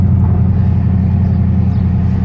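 A Mercedes CLS 500 AMG V8 engine revving at high rpm, a loud, steady, deep roar filling the whole moment without pause or voices.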